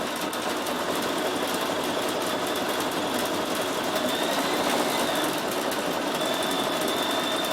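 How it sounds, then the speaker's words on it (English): A Bernina 7 Series sewing machine with its embroidery module stitches at a steady, fast mechanical chatter, close and continuous with a faint whine, without talk. "So now you can see how beautiful it's embroidering"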